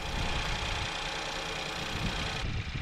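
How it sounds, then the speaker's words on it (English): A Ford Fiesta engine idles steadily during radiator and cooling-system flushing, a continuous close mechanical hum with a faint rattle and no talk. "And as the engine is running"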